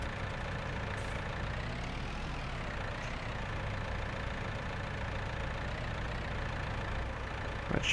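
A tractor engine idles steadily in Farming Simulator 19, a continuous low mechanical drone that holds an even level throughout, with no voices over it.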